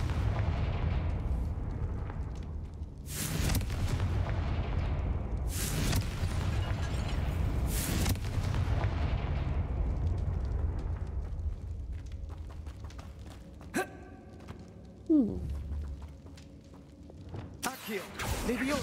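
Fiery Confringo spell blasts in the video game Hogwarts Legacy, several heavy booms a few seconds apart over a rumbling game backdrop, with a voice talking at times.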